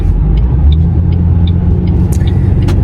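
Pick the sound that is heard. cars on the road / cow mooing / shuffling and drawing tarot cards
cars on the road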